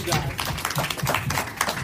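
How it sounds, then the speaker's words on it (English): A crowd at a live recording of a Black Men Who Lead event in NYC claps briskly and densely while a voice continues over the applause. "Clap it up once again."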